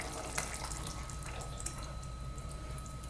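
Canned coconut milk pours in a steady, soft liquid stream into a pot of vegetable soup, a continuous close gurgle with no talking.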